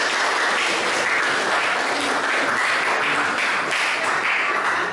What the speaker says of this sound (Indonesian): tepuk tangan buat Hakim.